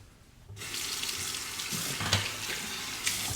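Running tap water streams steadily into a sink as a Merkur 34C safety razor is rinsed, starting after a brief quiet moment and continuing loud and close with small splashing surges, no voices.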